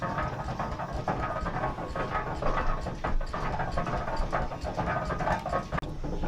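A steam donkey logging engine running during a demonstration of hauling logs through the forest, giving a dense, continuous mechanical clatter and rattle with a rhythmic chugging beneath, loud and close.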